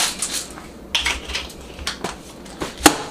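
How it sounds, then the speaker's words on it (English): An old pepper mill shaken and clicked over salsa ingredients in a kitchen, a few sharp rattling clicks and knocks spaced irregularly, close and fairly loud with no talking. "Grab the old pepper mill, give her a few shakes like so."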